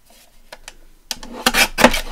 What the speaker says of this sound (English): So I'm going to just trim that on the Timmy trimmer.